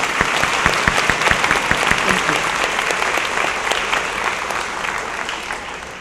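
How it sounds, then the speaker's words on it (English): Sustained applause from an audience at a high school awards program, honoring senior award recipients; dense steady clapping throughout, loud and close, slowly tapering toward the end. "Please give them all a round of applause."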